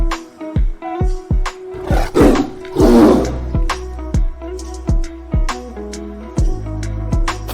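A tiger roars in a children's alphabet drawing lesson, a couple of strong roars under a rhythmic, plinking music track.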